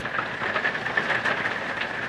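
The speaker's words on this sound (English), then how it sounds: "it is hailing, thundering, and lightning." Hail and rain drum steadily on an RV during a thunderstorm under a tornado warning, a close, even patter with no pauses and no voices.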